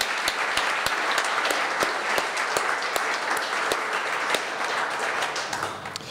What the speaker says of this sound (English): So I'd like you to give them a clap.